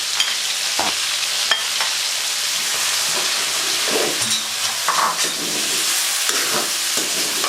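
Onions frying in a pan for a stuffed red chilli and eggplant fry, giving a loud, steady, dense sizzle with occasional soft stirring knocks and no voices.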